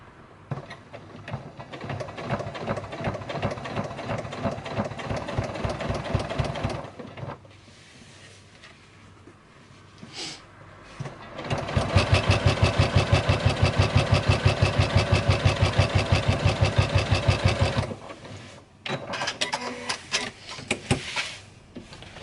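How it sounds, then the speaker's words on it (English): A sewing machine top stitching a seam on a small make-up bag, running in two bursts of rapid, even mechanical clatter with a short pause between, close and loud. "Now I've top stitched that together."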